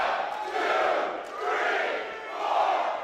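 A wrestling crowd at a Relentless Wrestling match chants in unison in three loud, rhythmic swells, like a shouted count rising and falling from a packed room.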